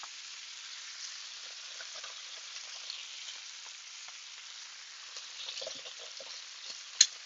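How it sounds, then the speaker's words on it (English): Escarole sizzles steadily in a frying pan with onions as it wilts, a soft crackling hiss with occasional stirring rustles and a brief clack near the end, no talking. "Nice sizzle."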